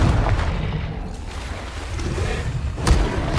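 Confringo spell blasts in Hogwarts Legacy, a low booming impact early then a sharp crack and boom near the end over a rumbling background, no talking.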